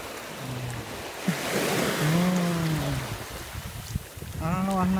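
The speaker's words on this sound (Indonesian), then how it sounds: "Nanti ditarik ombak" Surf on a beach in Indramayu, Indonesia, washes in a continuous rushing roar, with a low moaning tone rising twice over the noise of the waves.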